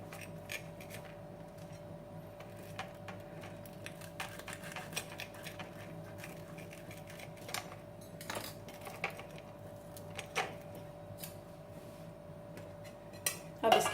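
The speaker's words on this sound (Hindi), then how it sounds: "तो अब इस सैंडविच को हम कट कर लेते हैं।" A knife cuts through a sandwich, giving scattered faint taps, scrapes and clicks against a board or plate over a steady hum, with a slightly louder clatter at the end.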